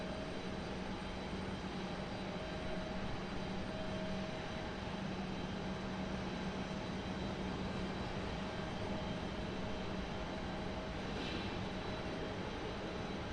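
A steady, fairly quiet jet engine roar with a faint tonal hum comes from an Airbus A321neo heading to Salt Lake City, heard at a distance at Raleigh-Durham airport with no talking.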